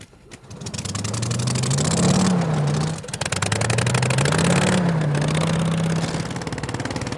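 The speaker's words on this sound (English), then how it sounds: "Gentlemen, start your engines!" Junkyard-built hovercraft engines rev at the start of a race, rising and falling in two loud throaty surges with a brief dip between, close and continuous.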